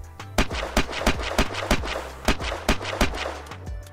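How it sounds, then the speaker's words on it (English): Sniper rifle shots fired at a base in Unturned, about a dozen sharp loud cracks in a fairly even rhythm over a low steady engine-like drone, with no talking. "Okay, I have a few more sniper shots here."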